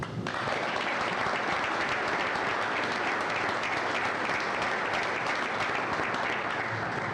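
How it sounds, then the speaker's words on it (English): An audience at a hotel ribbon cutting applauds steadily, a dense wash of many hands clapping at once, sustained and fairly loud throughout with no speech over it. "we can clap for that."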